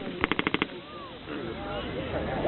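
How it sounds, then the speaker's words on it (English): A machine gun fires a short, rapid burst of about six loud shots as suppressing fire during an Armed Forces Day military display in Edinburgh, followed by crowd noise and a voice talking over the scene. "allows Lance Corporal Healy to maintain his suppressing fire on the enemy for a much longer period of time"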